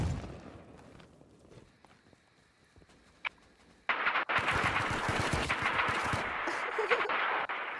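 AK rifle fire in the survival video game Rust: after a quiet stretch with faint footsteps, rapid automatic bursts crack out loud and close, continuing for several seconds.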